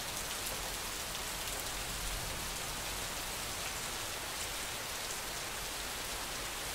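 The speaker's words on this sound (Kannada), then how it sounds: "ಧಾರಾಕಾರ ಮಳೆಗೆ" Torrential rain pours down over a town beside a large lake, a dense, constant roar of falling water with no pauses, steady and enveloping from start to finish.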